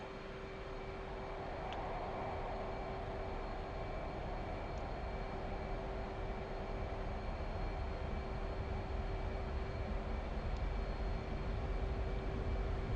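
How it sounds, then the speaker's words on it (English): A jet's rolling takeoff on afterburners in the DCS flight simulator gives a steady, loud, broadband engine roar with a constant tone, building slightly over the run and holding throughout. "Again, a rolling takeoff, afterburners, 350 up to Angels 20."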